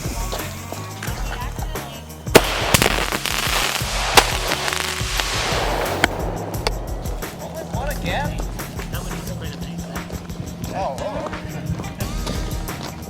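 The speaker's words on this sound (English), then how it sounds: "Neither is lighting multiple fireworks at the same time." Several fireworks and firecrackers set off at once in the woods, sharp bangs and crackling bursts over several seconds, with people talking and moving around nearby.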